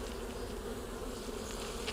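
A dense swarm of honeybees hums steadily around an open hive, with a festoon of bees hanging from the bottom of a frame. The buzz is close, constant and alone, with no voices.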